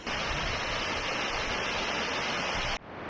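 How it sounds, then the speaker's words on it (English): Marinka Waterfall in Colombia roars as a steady, loud, continuous broadband rush of falling water, with no voices, cutting off sharply just before the end. "let's climb up and have a look at waterfall number 1"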